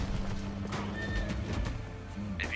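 Horses in a video game whinny loudly while clip-clopping hooves and busy game sounds carry on beneath, with a sharp high effect near the end.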